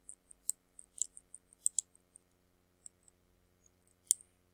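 A series of sharp, sparse mouse clicks while working in EndNote reference software, mostly light single taps with a louder pair near the end, alone against near silence.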